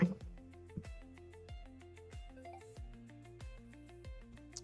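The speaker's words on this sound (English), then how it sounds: "I forgot to silence my phone." A mobile phone ringtone plays during a live unboxing of Godzilla figures: a quiet, repeating melodic pattern of plucked-sounding notes with a steady beat, heard alone.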